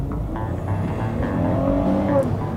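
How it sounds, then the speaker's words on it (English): A 2010 Ford Fusion with 240 horsepower accelerates along a back road, its engine a steady loud drone rising in pitch through gear shifts, heard from inside the car with faint voices underneath. "Nice smooth acceleration"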